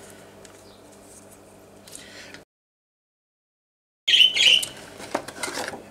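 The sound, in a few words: shaking bottles of acrylic paint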